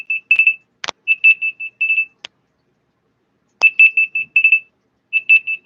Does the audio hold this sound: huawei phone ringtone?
yes